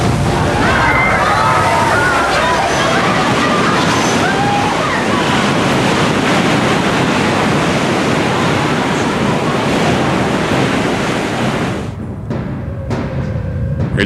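A tsunami surge spawned by a magnitude 9.3 earthquake roars as a dense, continuous wash of ocean water and wind, loud and unbroken, before dropping away abruptly near the end.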